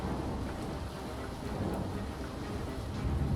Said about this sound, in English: Lightning filled the skies and large hailstones came pounding down.